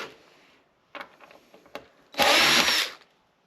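A power drill spins out screws from a device in a short buzzing burst of under a second, loud and close, after a few scattered clicks and handling knocks.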